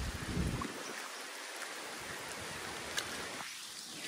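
Heavy monsoon rain pours steadily over open farm fields in the Konkan, a dense, even hiss with no voices.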